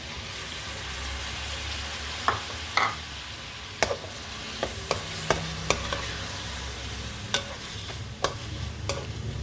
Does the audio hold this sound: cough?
no